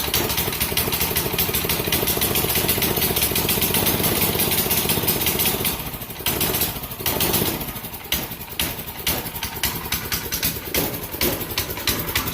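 An offroad mini chopper motorcycle engine, running without a battery and with its choke being used, idles loudly and steadily up close, then dips briefly and settles into a slightly uneven, sputtering idle.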